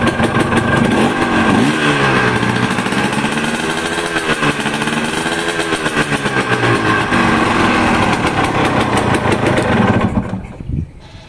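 A motorcycle engine idles roughly, then revs up and down in throaty swells through the exhaust, loud and close, before cutting off near the end.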